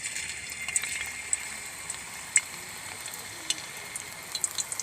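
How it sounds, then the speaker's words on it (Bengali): Raw banana slices hit hot oil and settle into a soft, even hiss, with occasional sharp pops and crackles spaced apart, fairly quiet and with no talking. "তেলটা গরম হয়েছে কিনা আমি এবার দুটো কলা ফেলে দেখব"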